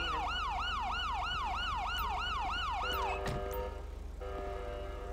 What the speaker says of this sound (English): I'll shut off the siren here in a sec.